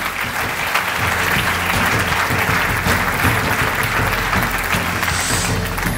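Loud, sustained applause from a crowd at an awards ceremony, steady clapping throughout with no pauses.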